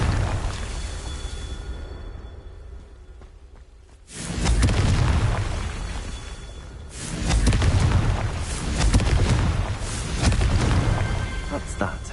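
Explosion spell cast in the video game Hogwarts Legacy: a deep booming blast erupts suddenly after a quieter stretch, followed by a second rumbling burst that rolls on loudly to the end.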